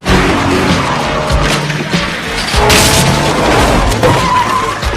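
Car in a film scene pulling away hard from a parked spot at a hideout, tires skidding and squealing over a loud engine roar, with a sharp burst near the middle and no talk.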